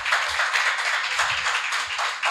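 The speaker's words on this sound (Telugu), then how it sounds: "అందరికీ ఒకసారి అందరం బిగ్గరగా చప్పట్లు కొడదామా?" A congregation at a women's church retreat claps loudly in a continuous burst of rapid, overlapping handclaps. The clapping fills the room and is close.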